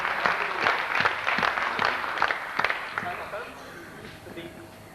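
Clapping from an audience at a university farewell party, several bursts of hand claps in the first seconds that thin out and fade, with room murmur underneath.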